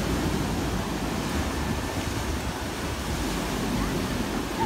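Ocean waves roll in at Las Canteras beach in Las Palmas de Gran Canaria, a steady, unbroken surf roar mixed with wind buzzing on the microphone.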